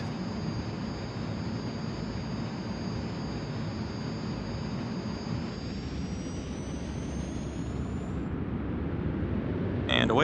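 Airliner jet engines roaring at takeoff on runway 24 left in Microsoft Flight Simulator 2020 in VR, a steady loud broadband rumble with a high whine that climbs in pitch and swells toward the end.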